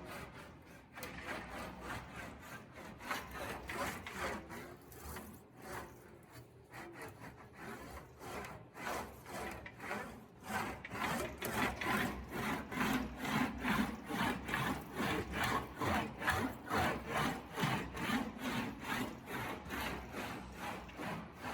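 An English wheel rolls back and forth over sheet metal, smoothing it with a rhythmic, repeated rubbing and grinding stroke that grows steadier and louder midway, with no talking.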